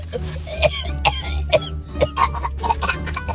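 Person coughing in a rapid series of short, harsh coughs, about one every half second, close and fairly loud over a low background hum.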